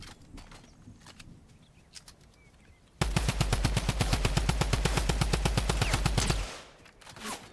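Rapid automatic gunfire from a gun in the Fortnite video game bursts for about three seconds in a fast, even stream of loud shots, preceded and followed by faint background game sounds.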